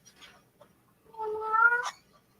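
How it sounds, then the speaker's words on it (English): Indoors in a home workshop, a cat lets out a single drawn-out meow, close and moderately loud, preceded by a few faint chirps and rustles in an otherwise quiet room. "Oh, you guys are going to hear the cats now."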